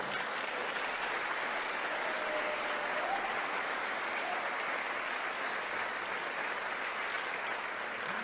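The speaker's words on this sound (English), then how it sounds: "I want to give another round of applause to our fabulous pianist, Philip Pletcher" An audience at an interfaith Thanksgiving celebration gives a pianist a round of applause, continuous and dense clapping that stays at a steady level for about eight seconds, heard at a distance and faint, with no voices.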